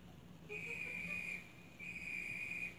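A train conductor's whistle sounds twice, each a long, shrill, steady blast lasting about a second, with a short gap between them, heard over a faint hum.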